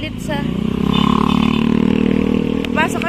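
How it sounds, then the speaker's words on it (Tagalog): Motorcycle engine running close by on a street in the heritage town of Taal, a steady idle rumble with light clatter, with people talking over it throughout. "Kunin mo na yung motor."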